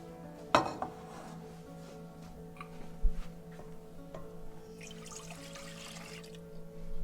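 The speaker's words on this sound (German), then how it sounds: "Julius, du holst bitte den Pott" A cooking pot fetched and handled in a home kitchen: a few sharp metallic clanks and knocks spread over several seconds, with light clinks and a faint watery trickle between them, close and fairly quiet.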